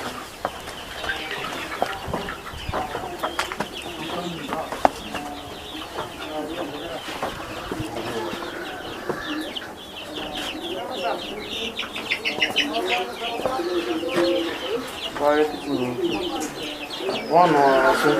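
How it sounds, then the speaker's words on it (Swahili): Egg-laying hens in battery cages cluck and squawk in a busy, overlapping chorus close at hand, with people talking intermittently over the birds. "Nimeambiwa kuna kuku wataga mayai."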